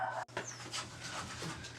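Household dogs getting ready to wrestle pant and snuffle up close, with a sharp short sound at the start followed by rapid, breathy huffing and faint whimpers.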